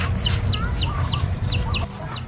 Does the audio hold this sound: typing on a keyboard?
no